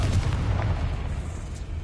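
A Confringo spell explodes in Hogwarts Legacy, a loud, low, rumbling boom that decays over about two seconds.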